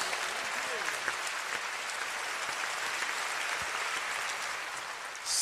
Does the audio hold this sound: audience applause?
yes